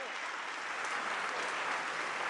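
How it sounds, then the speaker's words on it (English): Sustained, dense applause from a large crowd at an outdoor political campaign rally in North Carolina, a steady wash of clapping that holds even throughout with no voices standing out. "Give him a round of applause."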